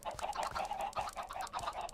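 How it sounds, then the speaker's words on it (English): Chickens in the video game Minecraft cluck in a steady, repeating pattern, short clucks coming several times a second at moderate volume with no talking. "grab these seeds, and we will mate as many chickens as we can."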